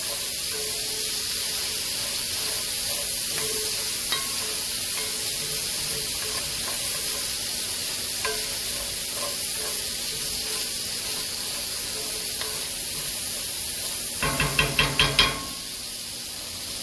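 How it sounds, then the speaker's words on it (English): Minced garlic, about a full teaspoon, sautés in a pan for creamy Tuscan chicken, giving a steady close sizzle and hiss throughout. A brief burst of clattering stir sounds comes near the end. "to add in the garlic. So that's about a full teaspoon. I'm going to let that go ahead and saute a little bit."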